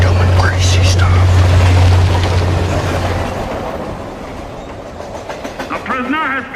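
Canadian National train running on rails, a heavy low rumble with clickety-clack over the joints, loud at first and then easing, with voices talking over the latter part.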